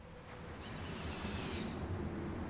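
An owl hoots in the prehistoric game Far Cry Primal, a clear hooting call rising over a steady wilderness ambience, moderately close and heard without any talking.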